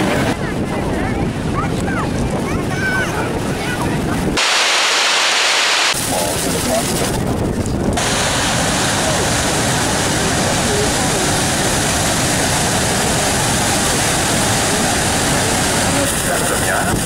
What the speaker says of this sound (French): Et ça, c'est que la chute américaine.